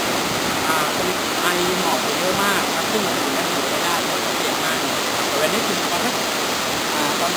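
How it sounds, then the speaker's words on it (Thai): Khadne waterfall rushes in a dense, loud, continuous roar of falling water heard up close, with a voice speaking over it. "จุดนี้นะครับถือเป็นจุดไฮไลท์ของน้ำตกขาดเนะครับ"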